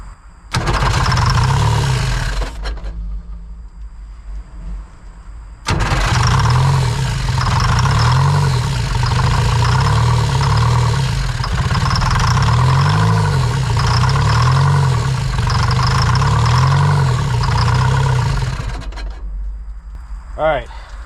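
An abandoned excavator's heavy diesel engine cranks briefly on starting fluid, cuts out, then starts and runs at a loud, throbbing idle for a long stretch before shutting off.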